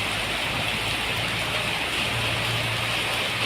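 Rain falls steadily outdoors as an even, soft hiss with no distinct drops, joined by a faint low hum from somewhere nearby.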